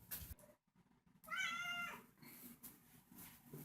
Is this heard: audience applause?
no